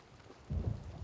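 Rain and thunder in Scottish weather during a rainy golf tournament: a soft, steady wash of rain, then a deep rumble of thunder rolls in about halfway through and holds low and heavy to the end.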